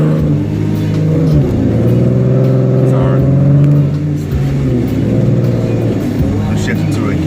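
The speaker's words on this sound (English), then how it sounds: "I'm shifting to a gear where it's not going to rev so loud" Heavy truck engine droning and rising as gears are shifted, with harmonic tones climbing then settling, heard from inside the cab while someone talks over it.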